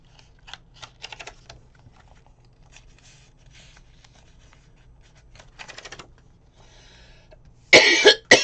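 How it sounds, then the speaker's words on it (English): Quiet light tapping and rustling of paper planner work, then a sudden loud burst of close coughing near the end. "Excuse me for the coughing."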